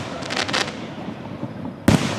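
Fourth of July fireworks at Gettysburg pop and crackle in a series of bursts, with one sharp, loud blast near the end standing out from the steady background rumble.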